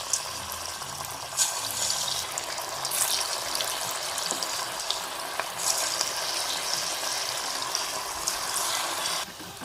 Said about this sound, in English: Now I will deep fry in the oil.